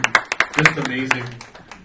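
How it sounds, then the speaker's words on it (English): A small audience gives a brief round of applause for an insurance team at a climate-focused talk, with a handful of distinct claps that soon thin out under speech. "definitely a round of applause for our team"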